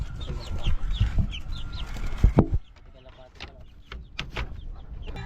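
A tethered red junglefowl rooster clucks repeatedly in short, close bursts, with people talking nearby and occasional handling noises.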